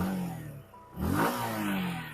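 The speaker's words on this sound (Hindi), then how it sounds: "और अब करूंगा मैं क्रैंक अप इसके इंजन को ताकि आप लोग साउंड सुन पाओ उस वाला इंजन की।" A 2024 Suzuki Gixxer SF150 motorcycle engine is revved once, the throttle blip rising to a loud peak and settling back to a steady idle, heard close with no talk.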